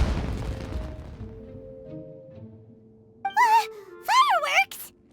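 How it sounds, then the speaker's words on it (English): Fireworks explode in the video game Genshin Impact with a loud opening boom that fades into a rumbling, crackling tail, followed by animated voices speaking. "Was that an explosion? It sounded like fireworks."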